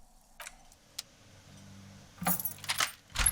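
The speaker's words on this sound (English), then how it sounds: "the lock clicks" Lock clicking open in the video game Disco Elysium, a few sharp metallic clicks and rattles with a low hum between them, ending in a louder burst of clatter.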